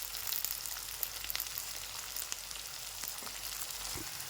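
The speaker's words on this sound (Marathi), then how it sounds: "मिरची थोडीशी चांगली तळू द्यायची" Green chili and onion sizzle steadily in a hot pan as masala scrambled eggs are started, a continuous close frying hiss with small crackles and no talking.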